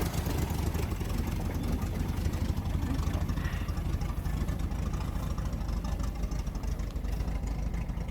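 A V8 swapped into a 1982 Chevrolet S-10, off the road for 19 years, idles with a steady, loud, low rumble and a fast, even throb that runs unbroken through the clip, with no talking.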